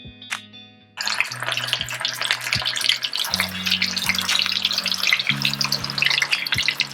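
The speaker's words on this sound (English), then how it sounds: "There you are, the oil is good. Let's start frying." Thai spicy chicken meatballs (laab gai thod) frying in hot oil in a pan, a steady crackling sizzle that starts abruptly and continues, with soft background music underneath.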